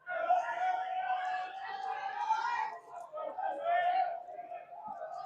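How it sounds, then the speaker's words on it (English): Crowd at a high school baseball game, South Caldwell vs Crest, a steady murmur of many voices and chatter swelling and easing over several seconds, with individual voices standing out faintly in the mix. "crowd coming to life a little bit here"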